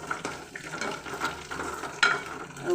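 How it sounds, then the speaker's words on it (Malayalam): Ginger, garlic, shallots and curry leaves fry in oil for a rasam, a soft crackling sizzle with light stirring scrapes and a sharper clink near the end, close by and without talk. "അങ്ങനെ നമ്മുടെ ഇഞ്ചിയും വെളുത്തുള്ളിയും കൊച്ചുള്ളിയും കറിവേപ്പിലയും മൂത്ത് വന്നിട്ടുണ്ട്"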